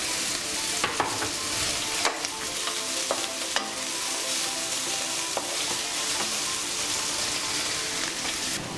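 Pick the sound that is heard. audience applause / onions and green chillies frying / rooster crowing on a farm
onions and green chillies frying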